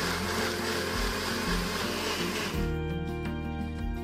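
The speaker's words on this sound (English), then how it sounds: "And I put it in my bullet blender and then mix that up" A bullet blender mixes smoothie ingredients with a loud, steady motor whir that shifts pitch partway through as the contents churn. It runs continuously and close, with no talking.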